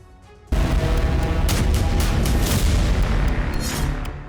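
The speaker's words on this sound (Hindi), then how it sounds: "सीरिया धमाकों से दहल गया" Continuous rumbling blasts and booming explosions in Syria, heavy and loud, start abruptly after a brief quiet lead-in and roll on with repeated thuds and crackling bursts throughout.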